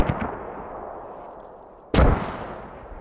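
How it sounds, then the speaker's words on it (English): Mortar rounds in the military shooter video game Squad: two booming impacts, a softer one at the start and a louder one near the two-second mark, each trailing off into a long rumbling decay. "they're just mortaring positions they think the U.S. is at"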